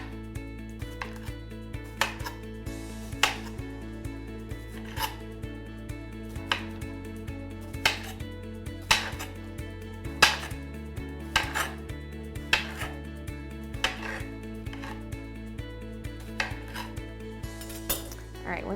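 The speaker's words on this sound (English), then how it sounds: "take a cucumber and just cut it into really thin slices" Knife cutting a cucumber into thin slices on a board, making repeated crisp chops at an irregular pace under steady background music, with no talking.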